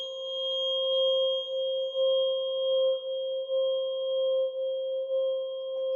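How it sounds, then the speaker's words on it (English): A 528 hertz tuning fork rings with a pure, steady tone, sustained and clear throughout with slight pulsing in loudness and no other sound. "that's a 528 hertz tuning fork there."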